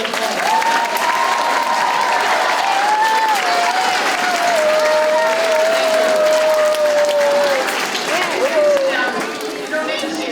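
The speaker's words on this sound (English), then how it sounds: "So I think we should give this young lady a nice round of applause." Sustained applause fills a school junior assembly hall, with many hands clapping steadily for about ten seconds, a high tonal voice-like line riding over the clapping and crowd murmur.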